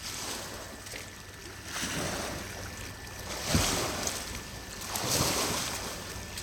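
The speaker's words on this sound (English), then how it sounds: "as you can hear in the background, the waves are definitely going at it" Steady roar of surf with a couple of louder wave crashes swelling through, mixed with wind noise; no voices.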